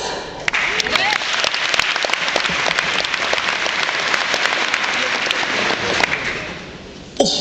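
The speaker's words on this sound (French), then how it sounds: "on se calme et on applaudit tout de suite le conseil de classe" A large audience breaks into sustained applause, a thick continuous wash of clapping with sharp individual claps standing out, holding loud and steady before cutting off near the end.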